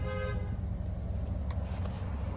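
A car horn sounds near a parked car, with steady road and engine noise rumbling underneath and no talk.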